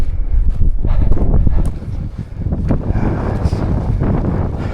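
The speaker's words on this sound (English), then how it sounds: "Pretty cold, pretty windy. It's windy down here." Strong wind buffets the microphone in heavy, rumbling gusts, with no speech, just continuous blustery roar rising and easing.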